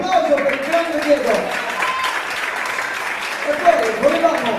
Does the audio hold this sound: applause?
yes